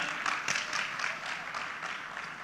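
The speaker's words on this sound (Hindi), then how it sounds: "एक बार जोरदार तालियां हो जाएं फॉर विकास दिव्यकीर्ति सर" An audience applauds for a guest speaker at a talk, a moderate, somewhat distant burst of clapping that stays fairly even for a couple of seconds.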